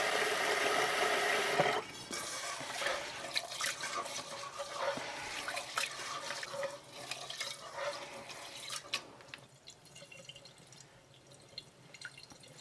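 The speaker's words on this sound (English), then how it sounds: "Rinse the rice 2 times." Sticky rice being rinsed in water, with a steady running-water wash and sloshing at close range, loudest at the start and then easing into quieter swishing and drips, no talk.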